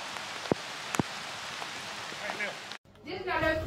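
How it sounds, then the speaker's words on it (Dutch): Steady rain falls outside as a dense, even hiss that fills the whole scene, and a voice briefly talks near the end. "maar op zich is het niet erg, die regen."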